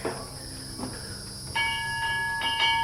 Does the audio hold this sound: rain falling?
no